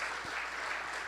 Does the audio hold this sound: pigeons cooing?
no